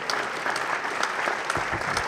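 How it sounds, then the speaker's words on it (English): A healthcare IT conference audience applauds a chapter award, a steady, full round of clapping from a large crowd, near and loud throughout. "Give yourself a round of applause."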